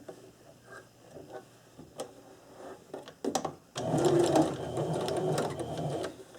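Sewing machine stitches a surgical scrub cap seam with straight stitching: quiet ticks and handling noises first, then a steady, close whirring run that holds for a couple of seconds.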